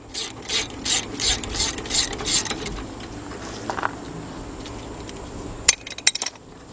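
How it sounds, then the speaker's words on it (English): A 3/8 drive ratchet turning a 12 mm socket on a brake bolt of a 1996 Toyota RAV4, giving several close, rhythmic rasping clicks, followed by quieter handling noises and a few sharp metallic clinks. "I got my 12 millimeter 3/8 drive socket with my 3/8 drive ratchet."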